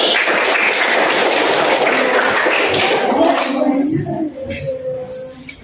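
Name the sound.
classroom applause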